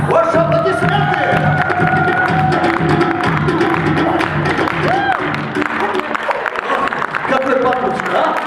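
Audience applause and cheering at a humorous International Women's Day mock contest show, loud and sustained crowd noise with music and voices mixed in throughout.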